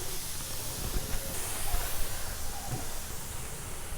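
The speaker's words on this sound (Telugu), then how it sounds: "చూడండి ఆవిరి అనేది పైకి వెళ్ళిపోతుంది" Steam hisses steadily from a pot of colostrum milk pudding (junnu) boiling uncovered on a stove, a continuous broadband rush at moderate level with no talk.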